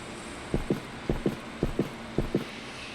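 A valve is opened in a VR industrial safety training simulation, heard as paired mechanical creaks and clicks that repeat four times at a steady pace.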